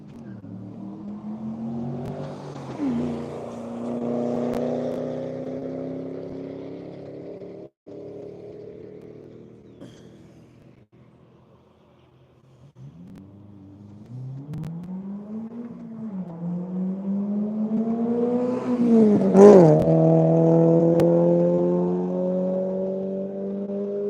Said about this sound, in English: That's all the cars now matriculating out on course